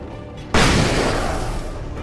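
A flash grenade goes off in the video game Alan Wake Remastered as one sudden loud, close bang, followed by a long broadband rushing decay.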